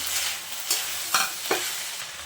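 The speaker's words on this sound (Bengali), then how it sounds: "মশলাটা একটু নাড়াচাড়া করে মাখিয়ে নিচ্ছি।" A spice mix is stirred into vegetables in a hot pan while preparing a Bengali dish of Malabar spinach with rohu fish head: a soft sizzle underneath a few distinct scraping strokes of a spoon.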